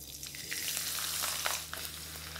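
Chopped ginger drops into cumin seeds frying in hot oil, giving a steady close sizzle with brief crackling bursts and no talk.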